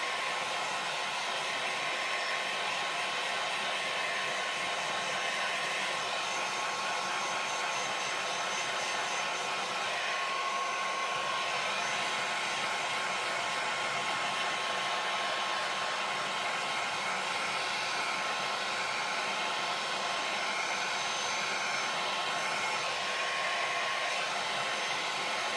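A hair dryer blows steadily and close for the whole stretch, a constant airy whoosh with a motor whine and no break, drying a freshly stamped card.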